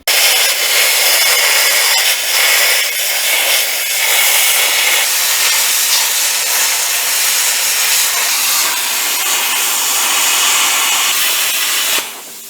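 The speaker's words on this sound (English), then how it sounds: "while I got the plasma cutter out, let's cut that jack leg off" A steady, loud hissing roar runs unbroken for several seconds as a plasma cutter slices through a steel trailer jack leg, then cuts off abruptly at the end.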